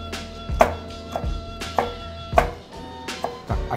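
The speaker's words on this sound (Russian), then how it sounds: "Добавляется чесночек. Угу. Мелко-мелко рубим." A knife finely chops garlic on a board for a Georgian eggplant, tomato and cheese dish, a series of distinct, close, irregularly spaced chopping knocks with no speech.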